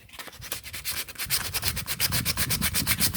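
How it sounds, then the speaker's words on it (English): Sandpaper rubbing back and forth on a lawn mower tire, a steady rhythmic scratching of even close strokes, loud and alone with no talk. "I'm going to try to sand it out."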